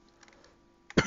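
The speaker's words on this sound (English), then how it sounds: "Pardon my cough." A single sharp cough bursts out near the end, loud and close after a quiet stretch with faint background sounds.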